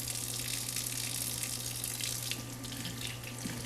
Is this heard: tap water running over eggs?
yes